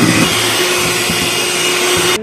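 An electric hand mixer whirring steadily through tea cake batter, a loud continuous motor hum with a faint pitch wobble, running alone until it cuts off abruptly at the end.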